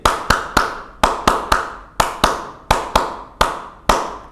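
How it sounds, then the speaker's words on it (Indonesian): Hands clap out the Hizbul Wathan scout HW clap pattern: sharp, loud claps in quick groups of about three, repeated several times with short pauses between, no voices. "pola tepuk sekali H, tepuk sekali W, tepuk sekali yes"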